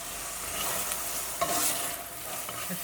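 Steady frying sizzle of diced onions in a pan, with scraping stir strokes and a brief clatter midway; close and continuous, no voices.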